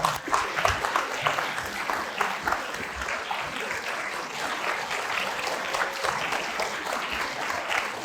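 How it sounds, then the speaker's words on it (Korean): Sustained audience applause fills a hall as a gubernatorial candidate is welcomed to the podium at a social welfare policy forum, dense steady clapping from a large crowd, loud and unbroken with no talk. "오르실 때 큰 환영의 박수를 보내드리면 좋겠습니다."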